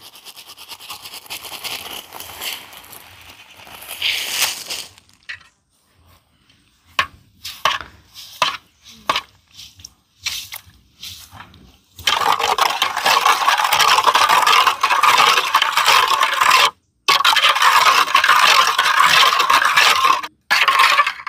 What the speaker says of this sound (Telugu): ముందుగా మనం పంచదార అయితే మిక్స్ చేద్దామండి